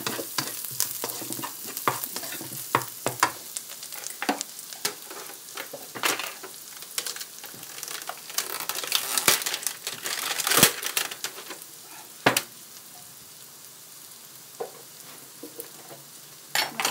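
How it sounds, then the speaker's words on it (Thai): Garlic sizzles in oil in a hot wok while frying for stir-fried mushrooms with oyster sauce, with a steady crackle broken by frequent sharp scrapes and clacks of a spatula stirring close by. "เริ่มต้นจากใส่กระเทียมลงไป เมื่อกี้เตายังร้อนอยู่เจียวกระเทียมให้หอมนะคะ"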